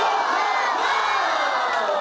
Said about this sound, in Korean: 불고 두들기고 신나는 재즈 연주에 박수가 절로 나옵니다